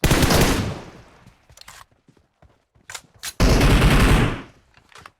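Bursts of gunfire in the mobile battle royale game PUBG Mobile: a long loud volley opens, then scattered single shots, then another heavy sustained burst, with no talk over it.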